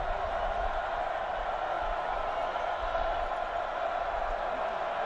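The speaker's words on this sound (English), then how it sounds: "Crowd starting to get into it here at High Point Solution Stadium." Rutgers Scarlet Knights face the Howard Bison in a 2012 college football game at High Point Solution Stadium, and the stadium crowd keeps up a steady, distant roar of massed voices for the whole stretch.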